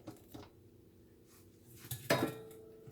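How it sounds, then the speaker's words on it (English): Eggs go one by one into creamed butter and sugar for a peach cobbler pound cake, heard as faint clinks and taps against a mixing bowl, ending in a sharper knock near the end. "Now we're gonna go ahead and start adding our eggs in."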